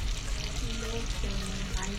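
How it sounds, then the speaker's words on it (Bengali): Chicken chaap pieces fry gently in a pan over a low flame, giving a steady, close sizzle that runs throughout without pause. "লো ফ্লেমে হালকা হালকা ভাজা হবে"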